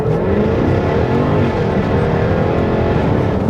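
A Jaguar F-Type V8 R engine roars continuously and loud from close by, a deep steady V8 drone with rising revs and no talking.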